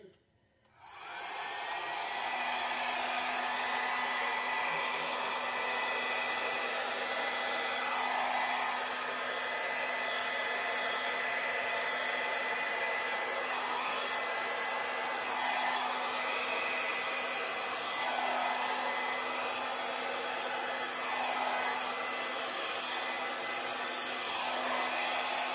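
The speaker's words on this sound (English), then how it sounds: "This little cute little hair dryer on low is sufficient." A small hair dryer runs steadily on a low setting over acrylic paint on a large canvas, a constant whirring hum with an airy rush, close and uninterrupted.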